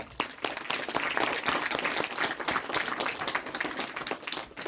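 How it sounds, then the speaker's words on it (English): A school assembly audience applauds an interdisciplinary heritage project presentation, a sustained crowd of clapping hands that holds steady and loud over nearly five seconds. "Wow, a big round of applause for them."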